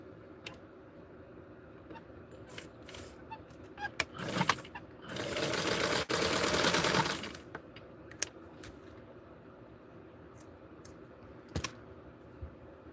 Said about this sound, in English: And actually sew all the way in right here.